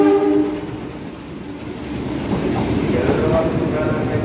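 The Bengawan passenger train rumbles past close by in Indonesia, a brief horn tone at the start, then heavy rolling noise and clatter building toward the end.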